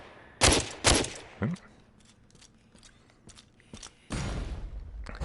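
Gunshots fired from a gun in the VR video game DWVR: two sharp loud blasts close together, a softer third shot, a stretch of faint game sounds, then a longer burst of noisy fire near the end.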